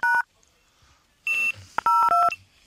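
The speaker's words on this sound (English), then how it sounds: "What's all the beeping?" Several short electronic beeps and tone pairs, like phone keypad dial tones, sound in bursts separated by brief quiet gaps.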